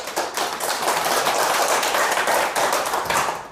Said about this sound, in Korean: 제 강의도 열심히 해달라고 박수 한번 부탁합니다